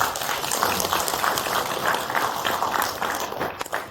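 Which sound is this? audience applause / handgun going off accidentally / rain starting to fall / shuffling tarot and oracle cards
audience applause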